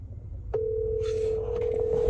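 A telephone line gives a single steady tone that begins abruptly about a quarter of the way in and holds unbroken to the end, fairly loud over a low background hum.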